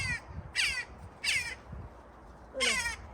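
Loud crow caws ring out close by near a potted cherry tree, four harsh calls in uneven rhythm over a faint low outdoor rumble.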